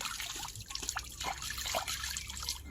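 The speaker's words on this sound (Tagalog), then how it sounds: "Siyempre kailangan din muna natin maghilamos." Face washing with river water: quiet, close splashes and drips of water cupped and poured, scattered irregular wet splashes over a steady background hiss.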